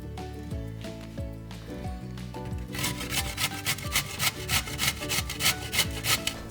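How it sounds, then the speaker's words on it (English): Papaya being grated on a box grater for a papaya thoran, with steady rhythmic rasping strokes that grow louder and more regular partway through, over faint background music and no talk. "use a box grater to grate this into fine slices"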